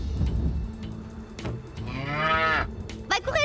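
A cartoon cow moos in a PAW Patrol episode, one long drawn-out, rising moo in the middle of the clip. Brief percussive knocks come before it and a short squeaky sound follows.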